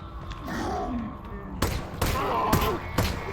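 Four sharp gunshots crack out at roughly half-second intervals in the video game Half-Life: Alyx, loud and close, following a stretch of quieter sound that may hold a voice.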